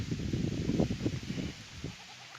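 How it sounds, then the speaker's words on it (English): Several Barbados Black Belly sheep bleat close by on pasture, overlapping calls in a short burst that trails off, with outdoor background noise. "these are Barbados Black Belly sheep"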